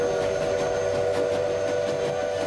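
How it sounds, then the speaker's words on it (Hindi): A Lucknow Express steam train passes with a long, steady whistle held over the rumble of the wagons, close and loud throughout. "लखनऊ एक्सप्रेस एक लंबी सीटी देती हुई, धड़धड़ाती, धुआं उड़ाती हुई निकल गई थी।"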